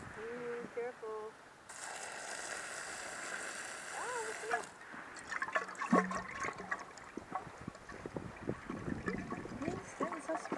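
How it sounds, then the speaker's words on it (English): Homebrew liquid for a Belgian strong ale is poured into a brewing bucket, a steady splashing gush lasting a few seconds, followed by clattering and handling noises, with someone speaking nearby. "so maybe I'll pour some of this out"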